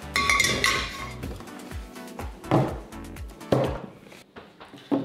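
A big frying pan and other cookware handled in a kitchen before frying white bass, with several sharp metallic clinks and clanks, some ringing briefly, then a few separate knocks spaced out, close and moderately loud.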